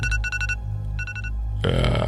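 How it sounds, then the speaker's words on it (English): A set alarm rings in repeated short electronic bursts, two clusters of rapid beeps separated by a pause, fairly loud over a steady low hum before a broader noise cuts in. "You set that alarm last night."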